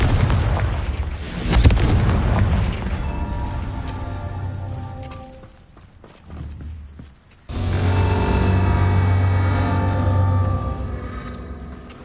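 Explosive Confringo spell blasts in Hogwarts Legacy: a loud booming burst near the start, then rumbling game effects and a dip before another sustained wave of blasting and tonal magical noise.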